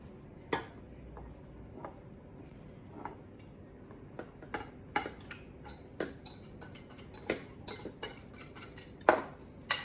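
Cheesecake batter being mixed in a bowl, a run of light utensil clinks and taps against the bowl, sparse at first and then coming quicker and sharper, with no talking.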